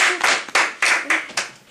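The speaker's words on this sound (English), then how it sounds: "Round of applause to the general evaluator." Roughly six sharp bursts of clapping from a small group at a Toastmasters meeting, close and brief, with no talk over it.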